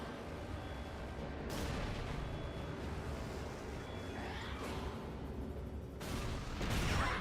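Rocket and heavy weapon fire in the Resistance: Retribution video game, a dense, continuous booming barrage with louder blasts near the start and end, the battle noise running throughout with no talk.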